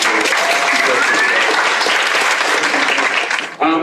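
A live audience gives a big round of applause for the speakers at a community event on school desegregation, loud sustained clapping from many hands that fades sharply at the end as a voice begins.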